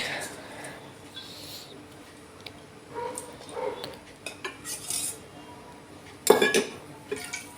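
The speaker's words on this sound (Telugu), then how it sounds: "ఇప్పుడు స్టవ్ వెలిగించుకొని ఒక ప్యాన్ పెట్టుకోవాలి" A pan is set down on a lit kitchen stove while making tomato coriander chutney. Scattered clinks and clatter of cookware build to one loud metallic clank near the end.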